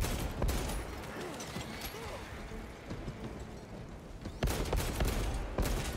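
Pistol fire in Space Marine 2 amid heavy combat din, sharp shots standing out over a dense rumble of battle noise, most pronounced near the start and again toward the end.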